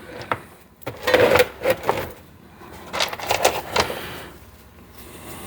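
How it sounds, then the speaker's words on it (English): Chalcedony rocks clatter and rattle in bursts as they tumble into a rock tumbler, a series of sharp knocks and scrapes with quieter pauses between. "You can see I'm throwing them back in my tumbler."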